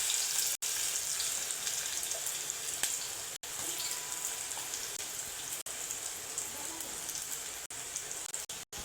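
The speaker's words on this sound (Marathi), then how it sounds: "जिरे छान फुलून आले की त्यामध्ये आपण आता बारीक चिरलेला कांदा टाकूया।" Chopped onion sizzles steadily in hot oil with cumin seeds for a fish curry, a continuous close-up crackling hiss broken by a few brief dropouts.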